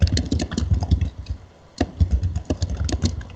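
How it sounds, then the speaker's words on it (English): Fast, loud typing hammers a computer keyboard in quick bursts of sharp clacks, pausing briefly midway before resuming. "Soto is like the loudest typer"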